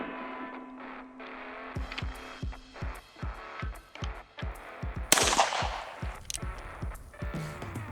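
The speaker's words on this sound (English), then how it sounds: "You're hearing a lot of shooting, a lot of pings in the background." Gunfire rings out as a rapid series of sharp, close shots in an even rhythm, with ringing metallic pings behind them and a louder burst near the end.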